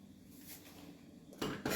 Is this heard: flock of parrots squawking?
no